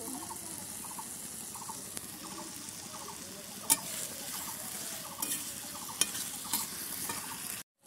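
Cut potatoes fry in a pan for a chili potato dish while being stirred: a soft, steady sizzle with regular scraping strokes and a few sharp clinks of the utensil against the pan.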